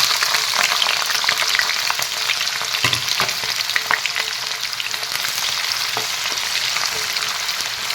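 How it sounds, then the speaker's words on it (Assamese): Chopped onions fry in hot oil in a kadai, giving a steady, loud, close crackling sizzle with small pops and a few stirring scrapes, no voices. "পিঁয়াজখিনি প্ৰথমতে ৰংচঙুৱা কৰি ল'ম।"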